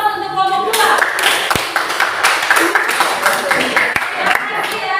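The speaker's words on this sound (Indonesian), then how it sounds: "Aplaus untuk kelompok 2." A classroom group receives applause after finishing their presentation, dense hand clapping filling the room steadily for several seconds with voices mixed in.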